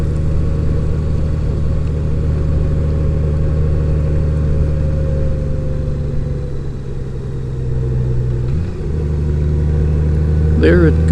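A 2018 Honda Goldwing DCT motorcycle engine rumbles steadily on a test ride, then drops pitch briefly as the transmission downshifts with a slight jerk, loud and close with wind noise; a rider talks over it.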